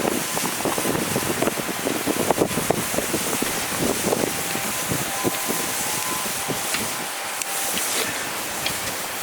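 Steady, loud wind buffeting the microphone at an outdoor grill, a continuous rough roar with small gusty fluctuations.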